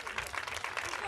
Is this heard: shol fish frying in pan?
no